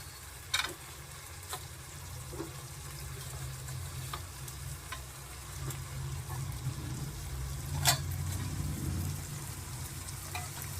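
Fish curry in a pan being stirred, with a soft steady simmer and sizzle broken by occasional sharp scrapes and clicks of a spoon against the pan.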